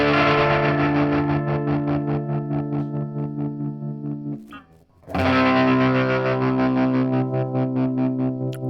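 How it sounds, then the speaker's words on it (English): Guitar run through a tremolo pedal with overdrive, sustained driven chords pulsing in fast, even chops, cutting out briefly near the middle before another pulsing chord rings on, close and fairly loud. "So it's doing the tremolo, but also giving you drive."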